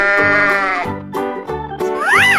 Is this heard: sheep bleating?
yes